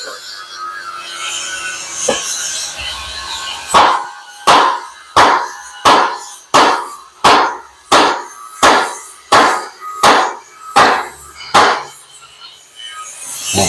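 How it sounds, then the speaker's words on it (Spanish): A mallet pounds a welded reinforcement on the rear axle housing of a Hino 300 truck, about fifteen heavy, evenly spaced blows ringing out close and loud after a stretch of workshop noise. "Nuevamente vamos a darle unos masajes de maceta."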